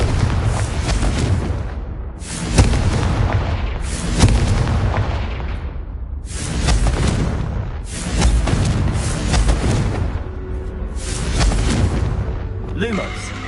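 Confringo fire spells explode in Hogwarts Legacy as a series of about seven loud, booming blasts, each with a rumbling decay, spaced roughly every one to two seconds.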